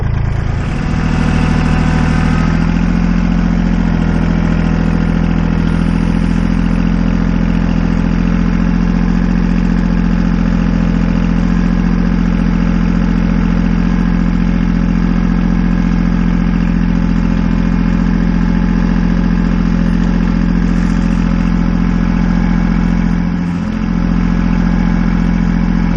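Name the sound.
vehicle engine running while driving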